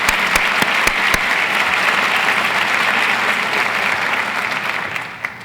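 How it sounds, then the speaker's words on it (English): An audience at a university's State of the University address applauds steadily, a dense wash of clapping that holds for several seconds before tapering off. "Join me in applauding these two individuals and their dedicated teams for making this expansion possible."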